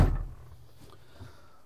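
The cab door of a front end loader swings shut with a single dull thump at the start, then fades into a quiet interior hum.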